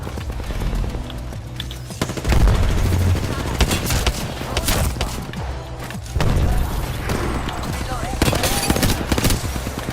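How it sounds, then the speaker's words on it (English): Apex Legends gunfire comes in rapid automatic bursts mixed with explosions and impacts, loud and nearly continuous during a battle-royale firefight. "Taking fire."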